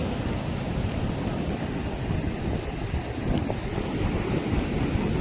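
Ocean surf washes continuously onto a beach in Goa, a broad steady roar mixed with wind buffeting the microphone, with no voices.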